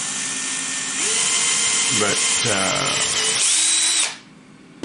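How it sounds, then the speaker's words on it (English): A power drill bores a hole through tough plastic on an Elmo toy, a loud steady high whine running for about three seconds before cutting off, with someone speaking over it. "You drill it to what you're comfortable with,"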